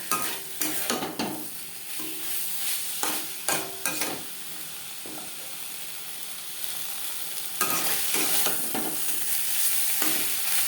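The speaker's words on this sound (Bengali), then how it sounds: "মশলার সাথে কাঁকরোল আরও 2 মিনিট নাড়াচাড়া করে নেব।" Teasel gourd being stirred with spice paste in a pan, a faint steady sizzle broken by several sharp scraping and clattering strokes of a spoon against the metal, with stirring bursts clustering early and again near the end.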